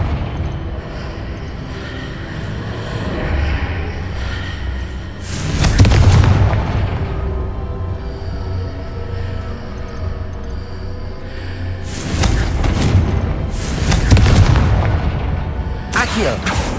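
Confringo fire spell explosions in Hogwarts Legacy, several loud booming blasts in clusters over a steady game background, with some crackling bursts.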